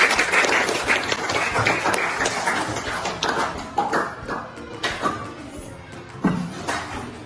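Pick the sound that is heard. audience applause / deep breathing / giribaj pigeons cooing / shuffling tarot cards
audience applause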